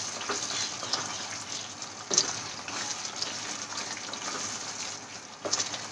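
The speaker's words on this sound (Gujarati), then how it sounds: "તો હવે આમાં આપણે ફ્રાય કરેલા કાજુ એડ કરી લઈશું અને સરસ રીતે મિક્સ કરી લઈશું." Fried cashews being stirred into a simmering gunda (glueberry) curry in a pan, giving a steady soft sizzle and scraping with a few sharper clinks of the spoon, close up and with no talk.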